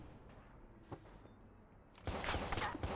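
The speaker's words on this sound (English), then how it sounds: "who's shooting me now?" Gunfire in the Watch Dogs video game: a single sharp shot near one second, then a dense burst of loud, rapid shots from about two seconds to the end, over steady ambient game noise.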